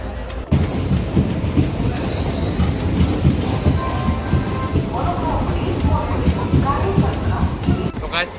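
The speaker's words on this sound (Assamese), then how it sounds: "আমি ট্ৰেইনেৰে গৈ আছোঁ এতিয়া" A passenger train runs on its rails with a steady, loud rumble and rhythmic clatter for several seconds, heard from on board, with murmuring voices mixed into the noise.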